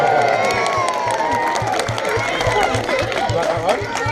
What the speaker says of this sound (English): If he gets it, give him a big cheer.